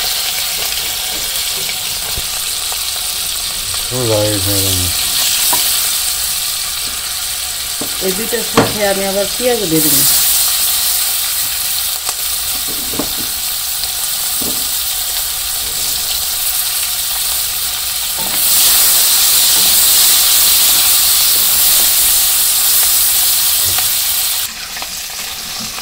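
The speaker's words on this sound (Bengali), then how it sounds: "এখন কই মাছ 2টা আগে ভেজে নেই" Two koi fish fry in a pan for simple village cooking, with onions added alongside, giving a constant loud sizzle with stirring scrapes; it swells louder near the end, and someone speaks briefly over it.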